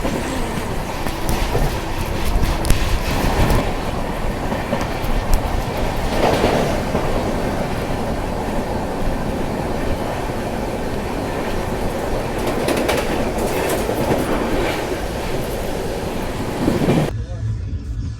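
The Purushottam Express rolls at low speed past Buxar, a continuous rumbling run with rhythmic clatter over the rails, heard from on board and cutting off near the end.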